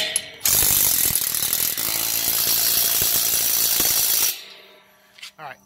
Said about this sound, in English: I'm going to crank down on the bolt that holds it into the hitch itself